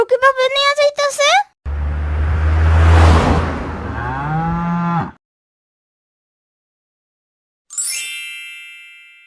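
A cartoon cow lets out a long, loud moo with a low sustained tone after a voice, followed by silence and then a bright chime.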